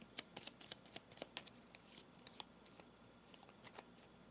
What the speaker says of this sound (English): So we'll go and shuffle these up real quick.